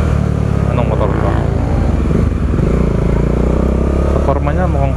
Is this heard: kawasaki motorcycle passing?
yes